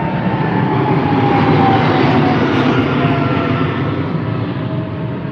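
A Saudi Airbus A380 in special livery takes off from Heathrow, a loud sustained jet engine roar swelling and then slowly easing as the airliner climbs away.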